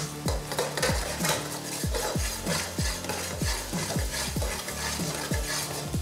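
Scrambled egg for fried rice is stirred in a hot pan, a utensil scraping and knocking against the metal in quick repeated strokes over a soft, constant sizzle, close and moderately loud with no talking.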